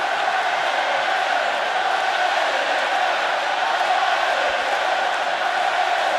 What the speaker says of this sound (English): With the crowd in full voice.